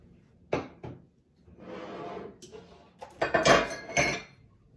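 A metal muffin tin and a mixing bowl are set down on a kitchen counter, giving a few sharp knocks, a scraping slide and a cluster of clattering clinks, close and fairly quiet.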